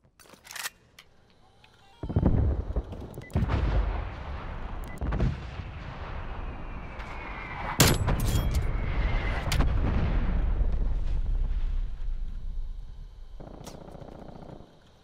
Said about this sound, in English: Artillery standing by.